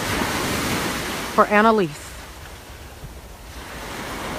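Ocean surf rolls and breaks steadily on a beach, a broad wash of water noise with wind buffeting the microphone and a brief spoken word partway through.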